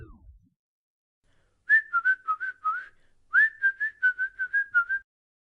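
Someone whistles two short tuneful phrases of quick, clear notes, close and fairly soft, separated by a brief pause in otherwise quiet surroundings.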